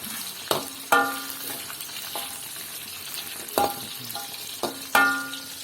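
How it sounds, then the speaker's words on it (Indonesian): Cassava pieces frying in hot oil give a steady sizzle, broken by several sharp clanks and scrapes as they are stirred and turned, with no talking. "ini udah digoreng nih, guys"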